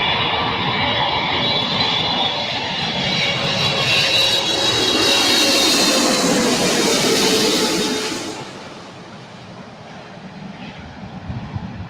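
A China Airlines Boeing 777-300ER jet roars past at LAX, a loud broadband engine rumble that swells and then fades away.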